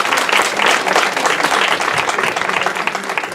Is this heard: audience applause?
yes